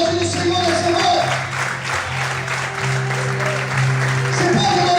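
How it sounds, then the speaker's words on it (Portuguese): Church congregation clapping in praise during an evening service, a broad wash of applause running the whole stretch with a sustained musical tone underneath and some voice mixed in. "Quantos podem aplaudir o Senhor nessa noite?"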